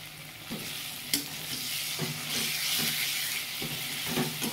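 Ginger paste frying and being stirred in a pan for a Bengali mutton kosha, a steady close sizzle with soft scraping stir strokes recurring about every second, no voices.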